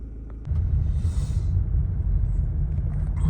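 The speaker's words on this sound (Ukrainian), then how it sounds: "Машина ще прогрівається" A Mazda CX-5 KE 2.2 diesel engine, with a mass airflow sensor fault, idles while warming up, a steady low rumbling drone that sets in abruptly after a quiet moment and continues evenly up close.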